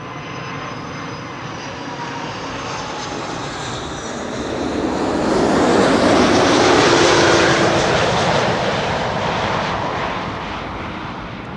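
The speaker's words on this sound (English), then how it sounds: "the A380 is also going to be landing on the center runway" An Airbus A380 lands on the center runway at Amsterdam Schiphol Airport, its broad engine roar building steadily, peaking loud and close near the middle, then easing off without fading out.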